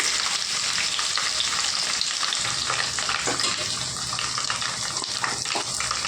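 Garlic frying in a hot pan for a tomato pachadi, a loud, dense and continuous sizzle close up with no talking.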